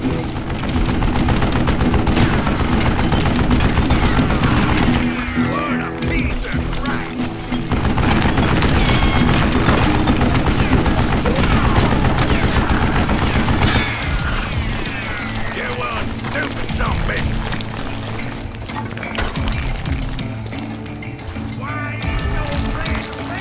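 Bursts of mounted machine-gun fire in the Western shooter Call of Juarez Gunslinger, loud and sustained over the whole stretch, mixed with horse hooves and galloping, under a narrating voice.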